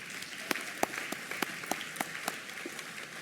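Audience applause at a nursing convocation carries on as a steady wash of clapping in a large hall, with a few sharper individual claps standing out from the crowd.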